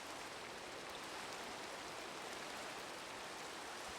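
Steady rain in the Minecraft modpack SevTech: Ages, a soft, even hiss of falling drops, fairly quiet and continuous with no voices.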